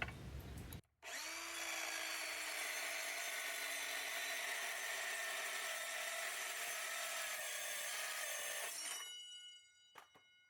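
A power saw cuts through half-inch threaded rod, a loud steady whine holding for about eight seconds after a brief start, then winding down to near silence with a couple of faint clicks.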